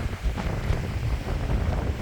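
Strong gusting wind buffets the microphone on a hiking trail at Guadalupe, a rough, low rumbling roar that swells and dips unevenly with no voices present.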